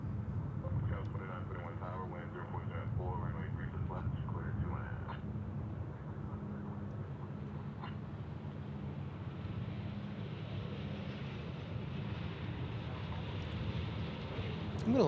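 An airliner in the old American Airlines Astrojet special livery at Dallas/Fort Worth International Airport, a steady, loud jet roar with wind rumble that continues for the whole stretch, while someone talks over it at the start.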